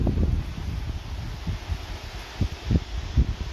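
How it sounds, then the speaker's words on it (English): Strong wind blowing outdoors on a cloudy day, a steady rumbling roar buffeting the microphone with low gusty thumps and rustle throughout, no voices. "I can hear it, though it is very windy."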